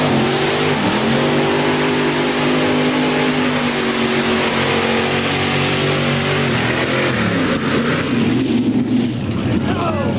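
A modified tractor with a 7450 Chevrolet engine roars loud and close through a 1991 NTPA pull, its steady high-rev drone dipping and climbing near the end while an announcer's voice runs underneath.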